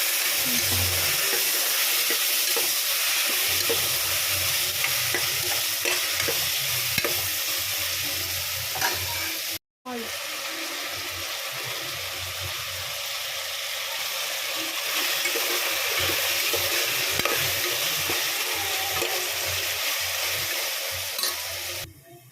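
Tomatoes frying and stirred in a pan for vegetable rice, a constant loud sizzle with intermittent scraping from the stirring and a brief cut in the middle.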